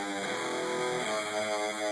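Electric guitar run through a Kilohearts Beat Crush bitcrusher plugin, its sustained notes degraded into a gritty, harsh, buzzy tone that holds steady for about two seconds with no voices.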